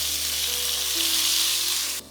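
Coriander stems and tomatoes fry in a hot oil tempering for dal dhokli, giving a steady, close, loud sizzle with a low hum beneath that runs evenly and cuts off abruptly near the end.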